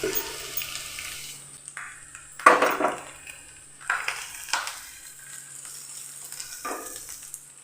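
Grated carrot and coconut fry in melted ghee in a pan, giving a soft steady sizzle with clattering and scraping stirs, one louder scrape burst midway.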